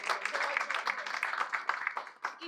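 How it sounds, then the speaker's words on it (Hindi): Audience at a Hindi-Urdu poetry recital applauds, a short burst of moderately loud clapping from a room of listeners, with dense overlapping claps throughout. "एक बार जोरदार तालियां बजाइए।"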